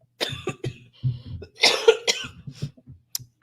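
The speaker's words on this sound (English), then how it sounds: "I ain't been coughing in 2 weeks, and now here it comes from this live." A person coughs several times in short, uneven bursts, close and fairly quiet, with no talk.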